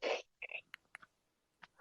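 A single loud sneeze bursts out at the start, followed by a few short breathy sounds and faint clicks, close to the listener.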